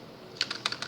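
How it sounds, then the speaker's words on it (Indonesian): Several crisp keystrokes on a computer keyboard, the tab key pressed while working in a Jupyter Notebook, come as quick, close, moderately loud clicks in an irregular patter with no talking. "pada saat Anda menekan tombol tab"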